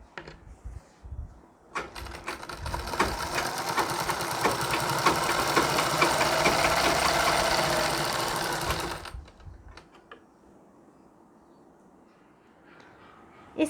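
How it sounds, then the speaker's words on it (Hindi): A sewing machine runs steadily for several seconds, stitching a border along the very edge of a saree, a close, even mechanical whir that rises and then stops, with quieter handling noises before and after. "बिल्कुल किनार से हमें सिलाई लगानी है।"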